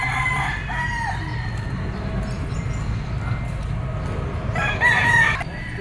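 A Gilmore-bloodline gamefowl rooster crows once, loud and close, near the end, rising over the steady hum and chatter of a busy Pasig pet market.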